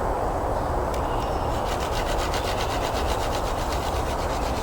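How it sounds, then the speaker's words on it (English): A taut bowstring is drawn back and forth to sand the inside of a notch cut in a primitive wooden arrow shaft, giving a steady, close rasping rub that quickens into rapid repeated strokes. "and I sand the inside with the string slightly"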